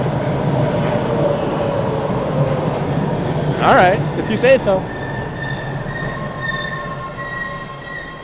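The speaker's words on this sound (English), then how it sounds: "here comes the train" A train pulls in with a rising metallic squeal of wheels on rails, a loud screech cluster mid-clip over a rumbling roar, as a person speaks briefly nearby.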